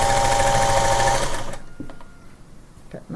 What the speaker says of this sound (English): I think my sewing machine's needing a little bit of oiling and work